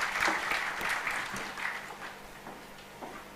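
Conference audience at a national HR conclave claps for an arriving speaker, a fairly faint but continuous patter of many hands with sharper individual claps, no talking over it.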